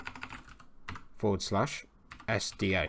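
Quick clicking keystrokes on a computer keyboard while a Linux terminal command is entered, the taps fairly close and mixed with someone talking over them in bursts.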